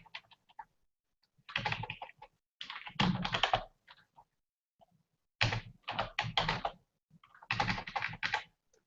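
Computer keyboard typing in bursts of rapid clicking keystrokes, close and fairly quiet, separated by short silent pauses.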